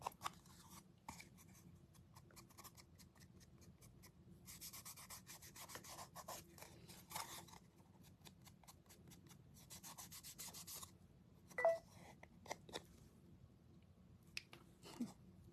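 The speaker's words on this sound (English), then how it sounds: "I'm just using my finger, kind of rubbing it on a little bit." Soft, continuous rubbing as a fingertip works an antiquing finish onto a snow globe, quiet and close with uneven bursts of friction and no speech.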